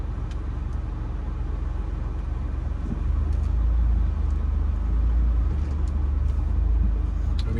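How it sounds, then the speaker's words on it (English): Cars passing on a city street at Marsden and Devereaux in the Wissinoming section of Northeast Philadelphia, a steady low road rumble swelling louder midway as vehicles go by close. "Be careful, I got cars on my left hand side."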